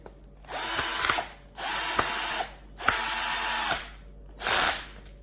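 A power ratchet tightens a brush socket onto a Gardiner brush in a workshop, running in four steady bursts of roughly a second each, close and loud, with short pauses between them.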